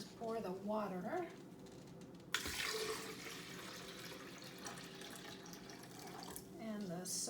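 Water being poured into a blender, starting abruptly as a rushing, splashing gush that settles into a steady trickle for several seconds, close by, with a voice speaking before and after.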